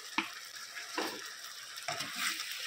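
Masala with tomato paste frying in a pan for chicken kosha, soft sizzling broken by three brief stirring scrapes of a spoon, quiet and close.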